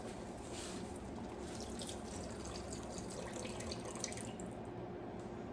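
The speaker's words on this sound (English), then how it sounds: "We're gonna add the seafood stock" Seafood stock poured into a gumbo pot of cooked-down vegetables, a steady close splashing pour running continuously for several seconds.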